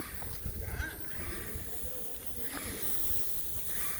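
A spray gun applies Italian clear coat to white oak doors, giving a steady, faint airy hiss that runs continuously with slight swells, and low muffled background noise underneath.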